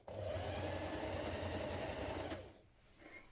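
A sewing machine basting across the edge of elastic, a fast steady close mechanical whirr that runs for about two seconds, then stops abruptly, leaving quiet.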